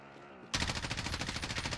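Rapid video game gunfire erupts suddenly after a quieter stretch, a dense automatic burst that rattles on steadily and loudly to the end.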